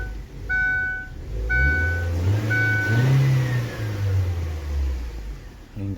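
A car with a petrol-and-gas fuel system and an ignition fault, its engine running and switching from petrol to gas, revving steadily close by while several short electronic beeps sound early on, with no talking.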